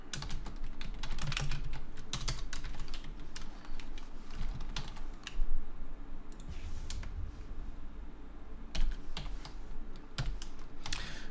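Typing on a computer keyboard while writing C# code, a steady run of close, clicky keystrokes with brief pauses and a few heavier key presses, with no talking.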